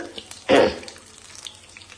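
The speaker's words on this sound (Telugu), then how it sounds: "తాలింపు గింజలు అది ఆవాలు మినపప్పు శనగపప్పు జీలకర్ర వేసాను ఇప్పుడు" Mustard seeds, urad dal, chana dal and cumin hit hot oil for tempering, giving one short, fairly close burst of sizzling that quickly fades to faint crackle.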